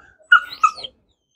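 A dog named Max, being trained for guarding, lets out a brief whimpering whine in two or three short high-pitched notes, close and fairly loud, then falls silent.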